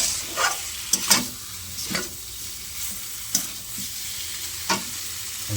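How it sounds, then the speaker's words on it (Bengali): Potato curry is stirred in a pan just after water is added: a string of sharp scraping spoon strokes, about six, over a soft bubbling simmer. "একটু এই জল দিয়ে দিলাম, এটা নেড়ে ছেড়ে নেবো"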